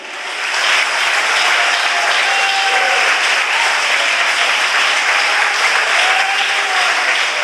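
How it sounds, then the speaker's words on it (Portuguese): A church congregation applauds during a sermon, a dense, loud, sustained wash of many hands clapping that swells in quickly and holds steady without talk over it. "Aplauda ao Senhor dos Exércitos."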